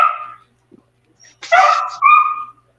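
A house dog close by gives a short whine, then a sharp bark followed by a higher yelping bark, loud against near silence.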